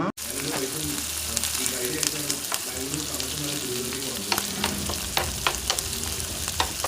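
Spices tempering in hot oil for a fish curry give a steady, loud sizzle and crackle, with sharp pops scattered throughout and a faint voice underneath.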